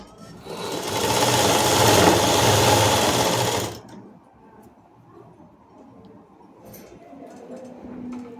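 A sewing machine stitches a long frock in one steady, loud run of about three seconds, then stops, leaving faint room noise and handling sounds.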